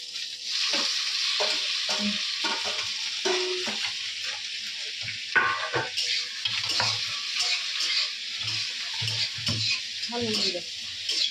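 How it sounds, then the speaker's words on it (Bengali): Prawn chorchori cooks in a pan, sizzling steadily while a spoon stirs and scrapes through it, with repeated close knocks and scrapes against the metal throughout. "এখানে চচ্চড়িটা বসে যে চিংড়ি মাছ দিয়ে চচ্চড়ি হবে"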